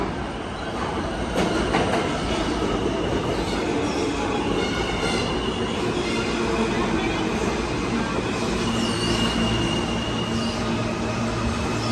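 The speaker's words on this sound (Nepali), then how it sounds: "आयो हाम्रो ट्रेन।" A New York subway train rumbles in loudly and continuously, metal wheels squealing and clattering on the rails, with a faint voice underneath.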